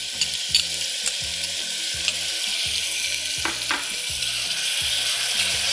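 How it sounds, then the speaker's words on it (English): Minced garlic and onion fry in hot oil, giving a steady, dense crackling sizzle. The sound is close and constant, with a few sharp ticks of stirring or spattering over the top. "Once you start to see some ripples in the oil, you're going to want to go ahead and add in your minced garlic and your minced onion."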